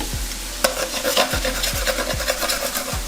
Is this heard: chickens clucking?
no